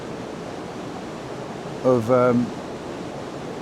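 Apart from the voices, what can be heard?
river water rushing near a weir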